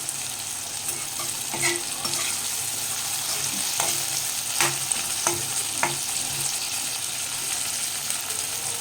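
Slit green chillies and onions fry in a pan, a steady loud sizzle filling the whole stretch, with a few soft stirring scrapes and clinks rising now and then.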